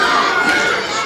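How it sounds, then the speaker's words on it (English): Live crowd at a professional wrestling show, a dense roar of shouting and cheering filling the arena, loud and continuous. "And you can hear the crowd."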